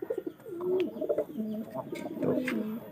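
Soft, repeated cooing of a pigeon close by, a low rolling warble that rises and falls in several phrases over faint background noise.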